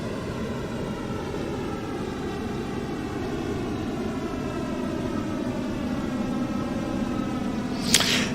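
Airliner engines drone steadily in the PMDG 737-900 flight simulator game, a continuous low rumbling hum with harmonic overtones and a brief sharp click near the end.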